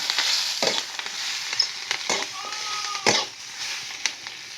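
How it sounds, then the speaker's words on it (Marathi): Green chili and onion roast in a lightly oiled pan with a steady sizzle, broken by the scrape and clatter of stirring. "भाजून घेते आता मी मिरचीनं कांदा"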